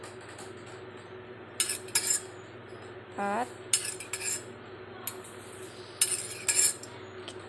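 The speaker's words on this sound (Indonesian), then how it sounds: "Selanjutnya kita masukkan air di ke dalam sini 5 sendok" A metal spoon measures water into a container, clinking repeatedly against its sides in short, close taps with brief scraping stirs, while a voice counts once over a steady low hum.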